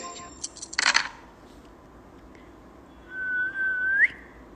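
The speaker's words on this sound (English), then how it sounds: "this is me whistling." A short burst of noise, then a single sustained whistled note that rises at the end, clear and close against a quiet background.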